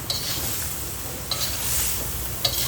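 Thai-style liver stir-fried with wilted coriander in a pan, giving a steady close sizzle under scraping stirs, with a few sharp clinks of utensil on metal.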